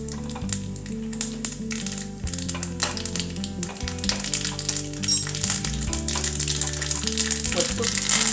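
Mustard seeds and chillies sizzle and crackle in hot oil for a sambar tempering, a continuous bright frying hiss with small pops under steady background music.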